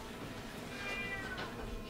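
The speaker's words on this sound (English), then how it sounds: "Or meowing!" A cat meows indoors, a clear drawn-out cry rising and falling over steady background noise, heard close and alone with no talking.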